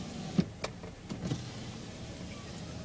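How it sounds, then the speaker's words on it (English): A soft electric motor whirs steadily as the power sliding rear window of a 2013 Ram 1500 Crew Cab pickup slides, with a few light clicks and thumps near the start over a low background rumble. "This is your power sliding window."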